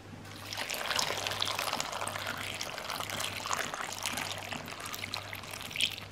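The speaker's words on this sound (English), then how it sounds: "And just top it up with some water." Water poured from a jug into a pot of beef stew with a stock cube, a steady splashing trickle lasting several seconds, close and fairly loud, with a low hum underneath.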